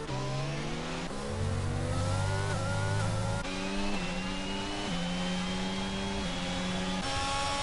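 Formula 1 car engine screaming at full speed up Eau Rouge at Spa in a racing game, loud and close, with several sharp upshifts stepping the pitch up and down across the run.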